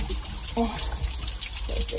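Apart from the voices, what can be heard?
running water while vacuuming a pool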